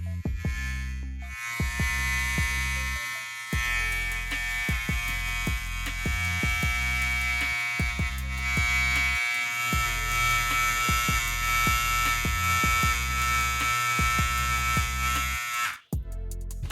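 A Trisan electric hair trimmer runs with a steady, loud buzzing hum, broken by brief dips and clicks, for most of the stretch before it switches off near the end.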